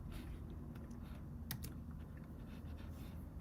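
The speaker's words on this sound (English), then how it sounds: "lot of typing. Well, coding is a lot of typing" Computer keyboard keys clatter softly and continuously during a coding session, a dense run of small clicks with a couple of sharper taps midway, heard alone against a low background hum.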